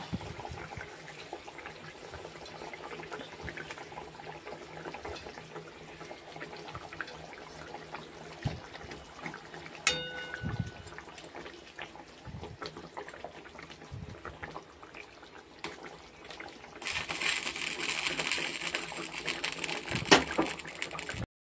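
Fried fish slipped piece by piece into a boiling curry gravy, a steady bubbling simmer throughout with small plops and a brief hiss of sizzling near the end.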